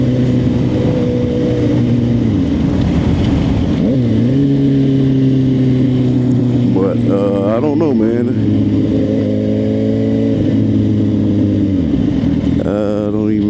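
A Suzuki GSX-R 750 motorcycle engine revs loud and close while riding, its pitch climbing and dropping through gear changes with brief throttle blips, as someone speaks briefly over it.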